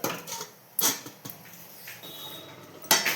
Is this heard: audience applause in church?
no